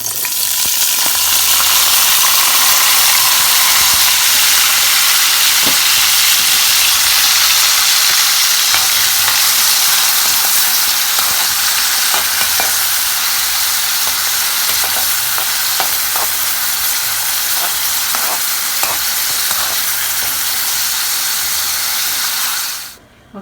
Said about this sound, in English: I'm getting the oil ready so that I can fry up the green peppers, red peppers, the onions, and the garlic